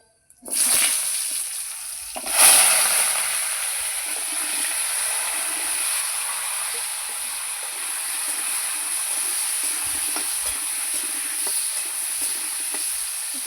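Potato and kohlrabi drop into hot tempered oil with a sudden loud burst of sizzling, then a sustained close, even frying hiss continues alone.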